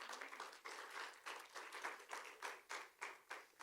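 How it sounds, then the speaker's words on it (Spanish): A church congregation claps in a steady rhythm, each sharp clap landing at an even beat, quiet and somewhat distant with no other sound around it. "Dele un aplauso al Señor."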